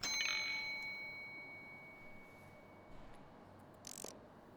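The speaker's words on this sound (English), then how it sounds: "Oh, the bell. Of course we're gonna play with it." Bell rung in the video game Deep Sleep: Labyrinth of the Forsaken: one bright metallic ding at the start that fades slowly, then a quiet ambient room tone with a soft brief chime near the end.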